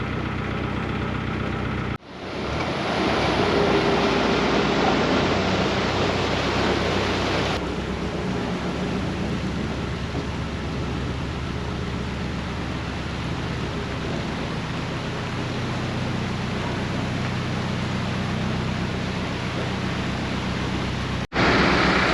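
Water pouring through leaky canal lock gates on the Wigan locks: a loud, steady broadband rush of falling water that keeps going for over twenty seconds, with a brief dip near the start.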